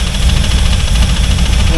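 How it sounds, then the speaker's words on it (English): A C4 Corvette engine with worn connecting rods runs close by at a loud, rough idle with a steady throb and no distinct start. "I suppose I can fire it up real quick."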